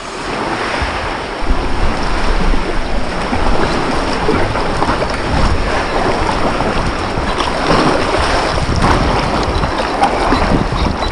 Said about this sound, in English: and then we're just going to paddle out.